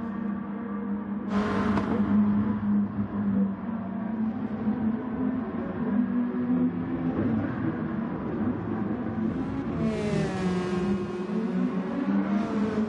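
Gran Turismo Gr.2 race cars in an international league round, engines droning steadily at high revs with shifting pitch as cars run close together, a brief high whine and a rising rev sweep near the end.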